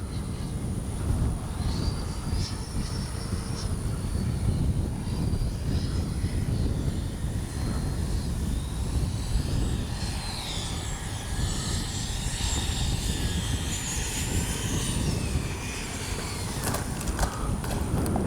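Freewing 90mm T-45 Goshawk RC jet with gear and flaps down on landing approach, a steady broad whooshing ducted-fan roar held throughout at moderate distance, with a faint high whine above it.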